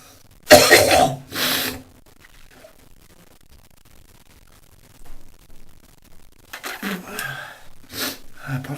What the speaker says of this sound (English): the first coughing started